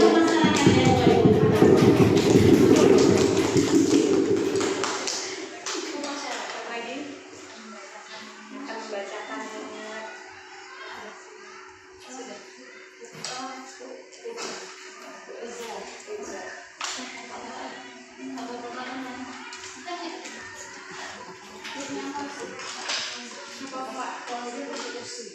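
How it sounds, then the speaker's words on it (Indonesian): Loud group applause from an audience at a school teachers' gathering on positive school culture fills the first five seconds, then fades into scattered taps, shuffling and murmuring voices. "Kita beri tepuk masyarakat ya Bapak Ibu."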